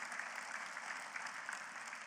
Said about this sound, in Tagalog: Palakpak po ng malakas yung nakakaunawa